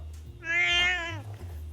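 A rescued cat gives a single clear, drawn-out meow, close and fairly loud, with a steady low hum underneath and no talking.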